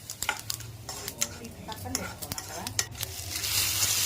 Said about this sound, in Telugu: ఒక పాన్లో కొద్దిగా ఆయిల్ వేసుకొని ఆలిం గింజలు ధనియాలు జీలకర్ర ఒక్కొక్క స్పూన్ చొప్పున వేసుకొని దోరగా వేయించుకోవాలి